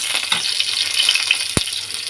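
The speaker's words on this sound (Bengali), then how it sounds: "এবারে মুলোটা দিয়ে দিলাম" Pieces of radish dropped into cumin seeds frying in hot oil, giving a loud, steady sizzle throughout, with one sharp clack from the pan near the end.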